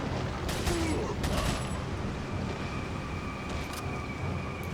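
Upgraded machine gun firing in the video game Resident Evil 4, rapid bursts of gunfire under a steady electronic tone and game background noise, continuous and fairly loud throughout.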